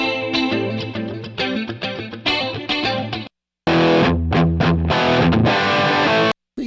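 An electric guitar plays a clean tone through a Line 6 Helix into a Laney LFR 212, with strummed chords and picked notes, close and loud, with two abrupt silent breaks.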